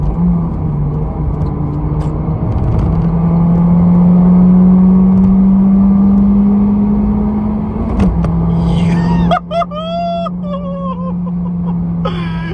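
A Peugeot 207 RC's small engine hums steadily at idle, its low drone briefly rising, with faint chirping sounds in the background near the end.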